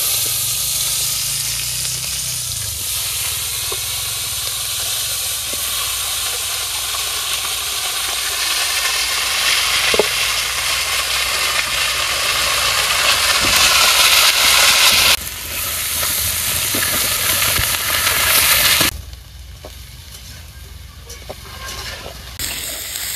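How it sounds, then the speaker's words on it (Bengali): Cauliflower fries in hot oil in a village kitchen, giving a loud, continuous sizzle and steamy hiss up close. The level dips slightly partway through and drops again near the end, with no talking. "এই তেলের মধ্যে আমি ফুলকপি ভাজি নিব"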